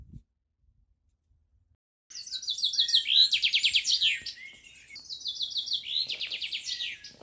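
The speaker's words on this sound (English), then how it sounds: "just the birds," Songbirds chirping in wilderness, with two bursts of quick, high, trilling phrases after a silent start, clear and fairly close against an otherwise quiet background.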